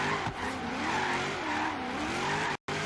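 A Drift Maloo car sliding through a drift in a racing video game, with a continuous close tire squeal and engine drone that cuts out abruptly near the end.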